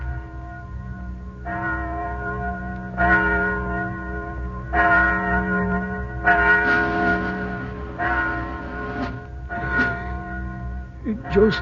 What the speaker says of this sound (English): Just a bell.